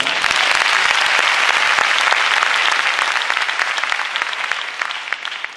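A large crowd at an anniversary celebration applauds loudly for minister adviser Youssou Ndour, a dense roar of clapping that holds strong and then gradually tapers off.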